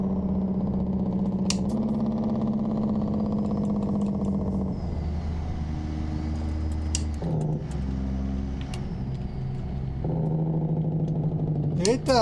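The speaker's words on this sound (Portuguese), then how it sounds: "Freio motor ligado." A truck in American Truck Simulator runs with the engine brake on, giving a loud droning engine tone that steps down and back up through several pitch changes, with a faint hiss of air brakes near the end.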